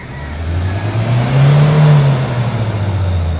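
A manual Ford Ranger 2.2 diesel engine with heavy smoke and low power, revved up toward 4,000 RPM, a loud close rumble that rises to a held peak and eases back, no voices.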